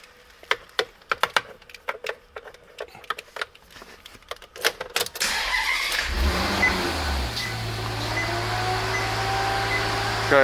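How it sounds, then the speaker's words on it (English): A 2013 Maserati Quattroporte with the 4.7-liter engine: a run of clicks and ticks, then the starter catches and the engine fires into a steady, close idle that holds to the end. "Let's kick over this engine, and so you can get a feel for how this car sounds."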